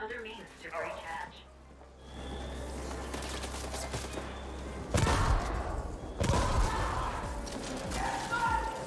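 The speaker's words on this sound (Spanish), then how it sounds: "¿Eso de dónde salen esos disparos?" Gunfire in the sci-fi action game The Ascent, heavy thumping shots and impacts bursting out in loud clusters over a constant low game rumble, with someone talking through it.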